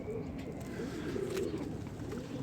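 Pigeon cooing, a one-tailed breed of fancy pigeon held up close, a low continuous murmuring coo under steady room noise.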